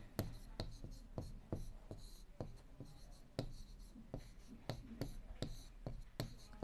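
Chalk or marker writing on a board while working through simple equations in a math lesson, with sharp taps and short scratchy strokes in an irregular rhythm, close and fairly clear over a faint room hum.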